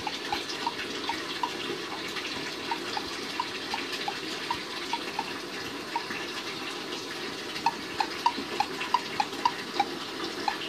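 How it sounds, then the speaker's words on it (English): Steady running water from a video game, like a faucet pouring, continuous and fairly faint, with small repeated tonal blips over the flow. "I guess the running water in the background ain't much better."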